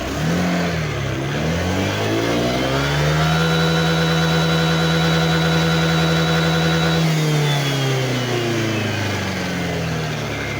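A Honda Click scooter engine, on its center stand, revs up steadily, holds a high, whining pitch for several seconds, then drops back toward idle, loud and close.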